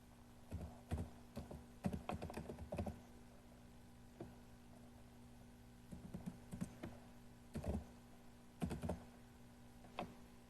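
Faint bursts of keystrokes on a computer keyboard, quick clusters of clicky taps separated by pauses over a quiet hum, with no voices.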